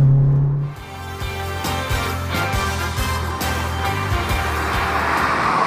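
A VW Polo GTI powers out of a corner at full throttle, its engine note rising into a loud, sustained drone with gear-linked pitch steps, heard from inside the car with no talk.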